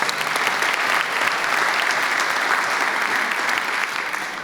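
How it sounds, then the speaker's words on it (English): Sustained crowd applause at a State of the City address, a broad, even wash of clapping from a large audience that holds strong from start to finish. "I think that deserves a round of applause right there."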